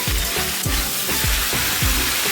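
Ingredients sautéed in a pan while making Udupi-style idli sambar give a steady, close sizzle, with repeated low stirring scrapes roughly every half second.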